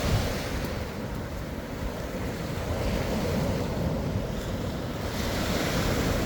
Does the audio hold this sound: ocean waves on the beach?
yes